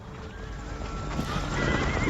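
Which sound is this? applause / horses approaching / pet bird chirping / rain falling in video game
horses approaching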